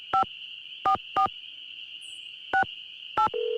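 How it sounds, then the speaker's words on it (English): Phone keypad tones beep five times in a video game, short evenly loud bursts with uneven gaps, over a steady electronic hum, ending in a lower sustained tone. "now the beeping sound is too loud"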